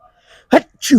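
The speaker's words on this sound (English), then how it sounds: "I'm about to sneeze real quick" A person sneezes close up: a quick sharp burst, a brief pause, then a second breathy, voiced release.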